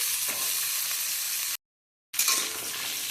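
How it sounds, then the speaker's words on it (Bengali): Pumpkin, potato and pointed gourd fry in a pan for a mixed vegetable curry, giving a loud, steady sizzling hiss that cuts out briefly before resuming with stirring. "কুমড়ো, আলু, পটল কিছুক্ষণ নেড়ে চেড়ে নেওয়া হয়েছে"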